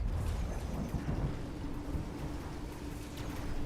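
Rolling thunder from a lightning storm in a video game, a steady low rumble with rain-like hiss throughout, loud and continuous with no clear separate claps.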